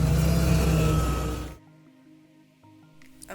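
Tow truck engine revving loudly and accelerating, a heavy rumbling roar that cuts off abruptly partway through, leaving a quieter hum.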